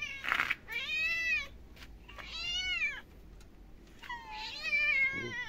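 Several garden cats in Kemaliye, Erzincan, Turkey, meow loudly and close by, about four drawn-out, wavering cries in a row with short gaps between them, alone without any talk.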